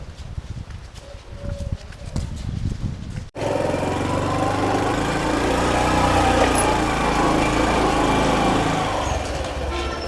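A motorcycle engine starts with an abrupt onset and then runs steadily and loudly up close, a continuous buzzing idle with no talking.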